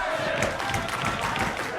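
A wrestling crowd cheers and roars continuously at a live match, loud and close throughout with overlapping shouts.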